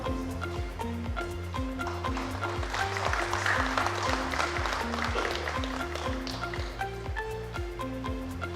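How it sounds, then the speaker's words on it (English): An audience at an agriculture and commodity business summit claps steadily for several seconds, with a rhythmic musical backing playing under the applause. "let's have a round of applause for Mr. Vijay Paul Sharma."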